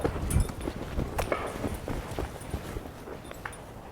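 A horse in Gaúcho-style breaking and training walks and then halts, its hooves giving a few clip-clop steps on the ground. They come loudest at the start, then thin out into scattered softer footfalls.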